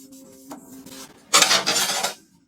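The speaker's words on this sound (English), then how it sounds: "he needs to sand the surface smooth again to prep it for the second acid wash" Sandpaper rubs across the surface of a Damascus steel knife blade between acid etches: faint scraping at first, then a louder, sustained burst of gritty rasping that fades out.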